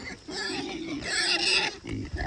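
Big pigs grunt and snort close by on a farm while being moved, a steady rough rumble of grunts with some rustling and a voice in the background.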